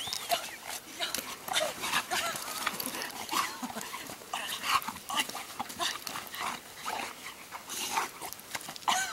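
A dog being handled and checked at close range, whimpering and shuffling in short restless bursts throughout, with voices faintly present.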